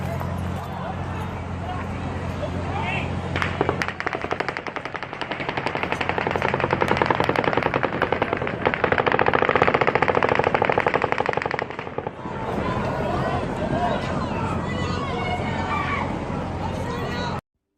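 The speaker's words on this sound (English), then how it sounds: "the fourth volley of automatic gunfire begins" Rapid automatic gunfire rattles in a long sustained volley during the Route 91 Harvest festival shooting in Las Vegas, loud but somewhat distant, with a brief pause before the shooting resumes.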